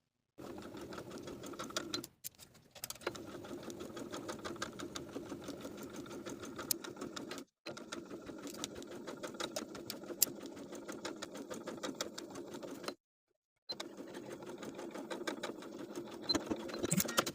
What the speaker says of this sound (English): Now we're going to sew from shoulder seam to underarm seam with a 3/8 inch seam allowance backstitching at both